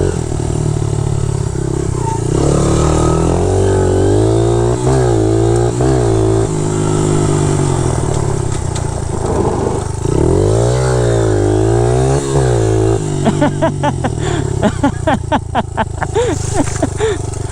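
A small Honda CRF80F pit bike engine runs and revs repeatedly, rising and falling in pitch, loud and close, with a speaking voice partly over it and a rapid rattling idle toward the end.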